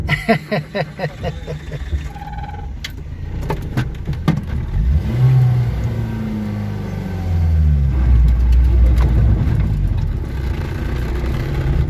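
A Renault 4L car engine drives and accelerates, a steady mid-pitched rumble rising in revs after a few sharp knocks at the start, loud and close throughout.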